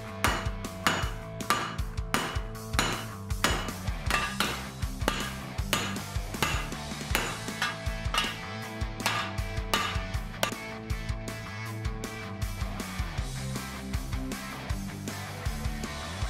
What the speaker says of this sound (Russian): Далее с помощью молотка придал текстуру клинку.